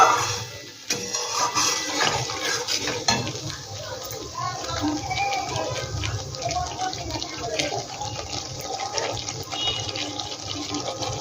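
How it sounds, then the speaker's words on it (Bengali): Water rinsed from a spice bowl is poured into masala cooking in a pan, giving a continuous hissing sizzle and bubbling with stirring scrapes, close and moderately loud. "এই যে মশলা বাটির ধোয়াটা ধুয়ে একটু জল দিয়ে দিচ্ছি"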